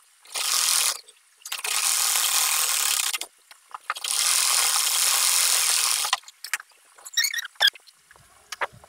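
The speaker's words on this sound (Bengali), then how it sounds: "আমি ডাবল সেলাই করে নিব।" A sewing machine double-stitches the seam on a child's half pants, running in three long steady bursts separated by short pauses, then a few brief clicks and taps as the fabric is handled.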